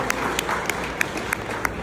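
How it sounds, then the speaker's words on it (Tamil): Clapping in a hall, with a thin spread of audience applause marked by a few sharp, regularly spaced louder claps standing out over the wash. "எங்கே உங்களுடைய டிவைன் மீடியாவுக்கான கரகோஷங்கள் காணாது"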